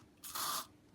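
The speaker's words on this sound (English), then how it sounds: "So what I do is put one little spray in." A single short spritz from a spray bottle hisses into a cup of acrylic paint, close and brief, about half a second long, in an otherwise quiet room.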